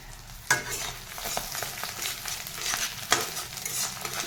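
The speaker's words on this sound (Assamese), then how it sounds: "ইয়াতে এতিয়া শুকান মাছখিনি দি ভাজি ল'ম।" Dried fish frying in a little hot oil in a wok gives a steady close sizzle, with a few sharp scrapes and clacks from stirring and no talking.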